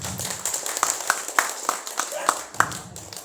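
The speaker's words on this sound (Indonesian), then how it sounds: "Kasih tepuk tangan." An audience claps at a stage event in Bojonegoro while a local party chairman walks up to the stage. The claps are sparse and sharp, each one distinct, and they sound under steady talking from a public address system.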